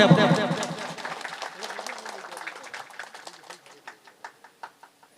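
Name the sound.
audience applause at a ceremony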